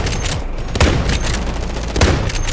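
Gunshots in the shooter game Delta Force: heavy, booming shots in a steady barrage, with two especially punchy impacts standing out, loud and close throughout.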